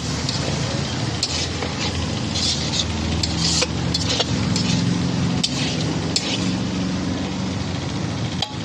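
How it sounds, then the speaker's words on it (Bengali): Leafy greens fry in oil in a pan while being stirred, giving a steady sizzle broken by intermittent scraping and light clinks of the utensil against the pan. "একটু পরপর নাড়তে হবে যাতে লেগে না যায়।"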